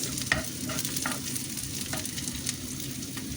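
Onions fry in a pan, browning, with a steady sizzle throughout and a few soft clinks of stirring at irregular intervals, fairly close and with no talking.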